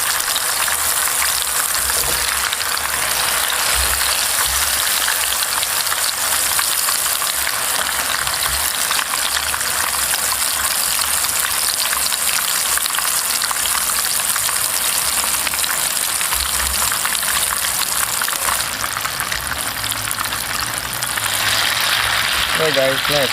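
Garlic and shallot frying in hot oil for Indonesian sambal, a steady dense sizzle that runs loud and unbroken throughout, with a faint shift near the end.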